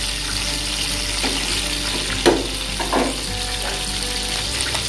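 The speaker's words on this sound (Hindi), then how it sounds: "और मेरा चिकन ऐसे ही आपको शैलो फ्राई करना है थोड़ा थोड़ा करके।" Chicken pieces shallow frying in a pan of oil for Kolkata restaurant-style chicken chaap, a steady close sizzle with a few brief clinks and stirring scrapes, no talking.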